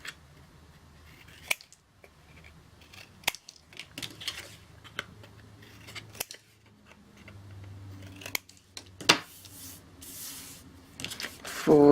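Scissors snipping mitered corners on paper for a craft project, a series of sharp, separate cuts spaced irregularly with soft rustling and handling noises between them, close and clear.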